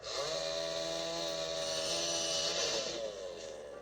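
Chainsaw engine running steadily at high revs while cutting into a deck, loud and continuous for several seconds, then easing slightly near the end.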